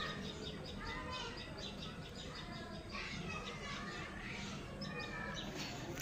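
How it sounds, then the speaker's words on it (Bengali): Birds calling outdoors in the afternoon after rain, faint repeated chirps and short calls over a steady background hiss, distant and continuous. "পাখি ডাকতেছে।"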